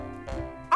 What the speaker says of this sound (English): and this is my best dog, Stormy Jane.